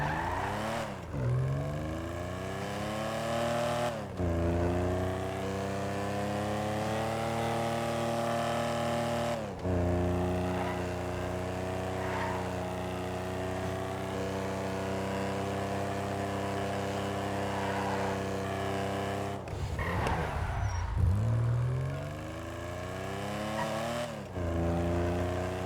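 A sports classic car in a racing video game drives steadily with a sustained engine drone, shifting pitch through several gear changes, with brief braking and turning squeals near the end; no one speaks.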